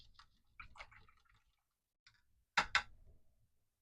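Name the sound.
rinsing a paintbrush in water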